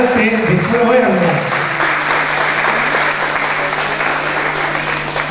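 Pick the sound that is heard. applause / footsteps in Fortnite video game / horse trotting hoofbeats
applause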